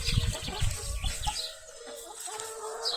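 Chickens clucking at a wooden coop set on four concrete slabs, a burst of low, close fowl sounds in the first second and a half, then quieter scattered clucks against background noise.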